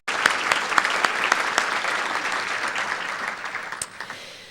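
Audience applause at a county government address, a steady wash of many hands clapping with sharp individual claps standing out, holding level and then tapering off at the end.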